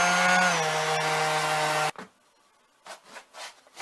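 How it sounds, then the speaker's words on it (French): A steady, loud whirring power sander grinds against a wooden sword handle, then cuts off abruptly, leaving quiet with a few faint scraping rubs. "Faut le poncer avec"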